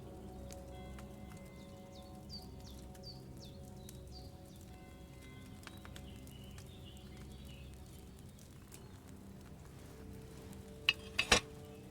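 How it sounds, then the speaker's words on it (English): A cauldron boils over a flame in the video game Kingdom Come Deliverance II, giving soft, faint bubbling and light patters under quiet tonal background music, with a couple of sharper clinks near the end. "Hear that bubbling? It's boiling."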